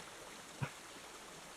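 A stream sound effect plays as quiet, steady flowing water, broken once by a single soft knock or click near the middle.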